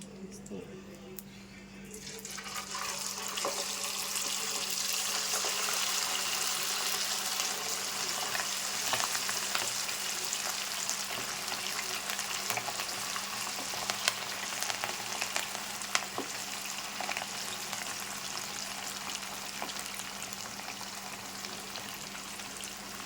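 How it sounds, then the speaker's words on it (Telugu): Chicken pakoda pieces fry steadily in hot oil over a medium flame, a dense, even sizzle that starts up after a quiet moment and continues throughout. "ఆయిల్ హీట్ అయిందండి. మనం మీడియం ఫ్లేమ్లోనే పెట్టుకొని ఈ పీసెస్ అనేవి వేసుకోవాలి."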